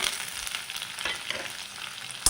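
Sliced garlic and three chopped green chillies shallow-frying in a pan with a steady, close crackling sizzle and a few brief stirring scrapes, no voices.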